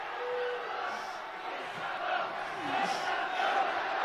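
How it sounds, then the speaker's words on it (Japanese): A large audience at an idol concert roars and cheers in a steady, dense wash of voices, with higher shouts rising at moments. "すごいね声援が"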